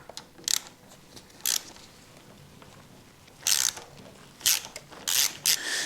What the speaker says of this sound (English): we're going to have to loosen the top pinch bolt to allow that top cap to move